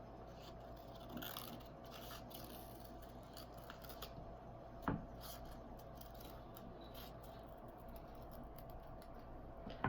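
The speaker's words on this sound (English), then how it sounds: "I'm gonna cut out my other eye." Scissors snipping out an eye shape from paper or craft material, soft close scrapes and cuts repeating irregularly with one sharper snip midway, faint and near, with no talk.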